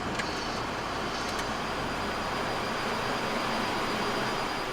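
Jet engines of a Boeing 737 freighter roar at takeoff thrust during the climb, a steady, loud, broadband rush heard from inside the cockpit.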